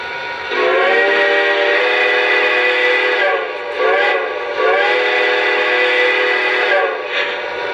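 Three sustained steam whistle blasts from whistle setting number 4 on a Lionel Conrail T-1 model train, loud and harmonically rich, separated by short pauses with a faint hiss between them.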